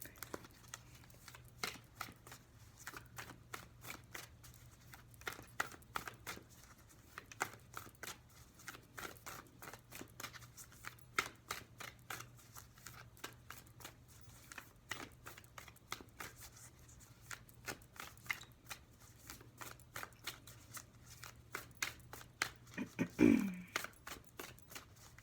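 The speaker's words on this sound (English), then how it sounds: "I think I forgot to shuffle these." Tarot cards are shuffled with a continuous run of quick, crisp riffling clicks and flutters at close range, repeating in bursts with a slightly louder clatter near the end.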